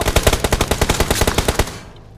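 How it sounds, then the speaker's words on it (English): A shooter video game delivers a loud burst of automatic gunfire, around fifteen evenly spaced shots in quick rhythm lasting under two seconds before fading out, with no voices. "people are shooting from the right, Ra"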